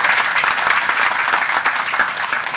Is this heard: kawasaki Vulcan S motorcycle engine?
no